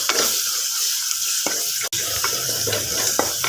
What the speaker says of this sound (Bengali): মশলাগুলো দিয়ে দিচ্ছি তো আমি এখন এগুলো লাড়াচাড়া করে দিব সবগুলা